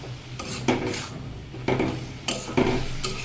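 Spiced cauliflower gets stirred in a cooking pot, a spoon scraping and clinking against the metal in about five distinct strokes over a soft sizzle, close and fairly quiet.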